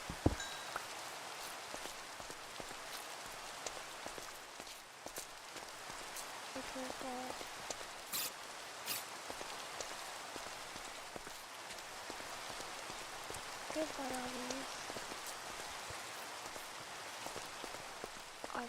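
Steady rain from a Minecraft game with the Cobblemon mod, a continuous mid-level hiss of falling drops lasting throughout, with a person talking briefly over it.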